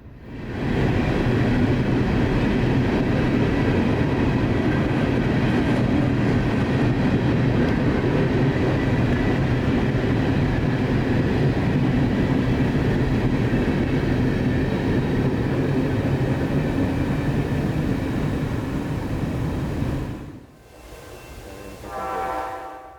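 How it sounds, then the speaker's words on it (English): An empty northbound coal train rumbles steadily past in pre-dawn Folkston, a loud, sustained roar of wagons on rails that cuts off near the end, leaving a quieter tail. "northbound empty coal train EO15 from Bostwick breaks the silence of a sleepy Folkston as it heads back north for Atkinson, Kentucky"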